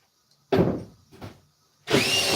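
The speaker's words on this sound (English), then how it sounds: "Put a couple screws in it." A power drill driving screws into wood on a shower wall, with a short buzzing burst, a briefer second whir, then a louder sustained run, close and unaccompanied by talk.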